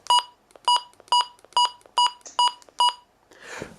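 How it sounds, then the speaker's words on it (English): Seven short, evenly spaced electronic button beeps from a Reecom R-1650 radio, same mid pitch, close and clear, followed by a brief rustle. "let's start with the button beeps first of all."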